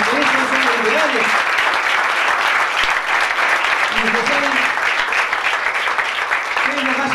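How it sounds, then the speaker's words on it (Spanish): An audience at a political speech breaks into loud, sustained applause, dense clapping that carries on throughout while a voice keeps talking underneath. "por eso le tenemos que brindar un fuerte aplauso"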